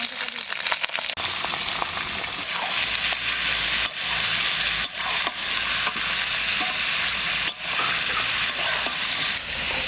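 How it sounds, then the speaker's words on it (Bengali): Mutton frying in oil with bay leaves and cinnamon, a steady loud sizzle filling the pan for about ten seconds, broken by a few sharp stirring knocks and scrapes. "এবার এই মাংসটা কিছুক্ষণ ভাজবো, তারপরে মশলাগুলো দেবো।"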